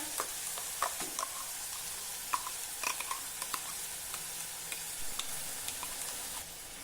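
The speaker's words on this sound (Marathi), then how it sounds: "आता तेलावर हे वाटण आपल्याला जरा परतून घ्यायचं आहे दोन मिनिटांसाठी" Soft, continuous sizzling of ground spice paste and radish leaves frying in oil, with scattered light scraping and stirring clicks from the spoon in the pan, fairly quiet and close.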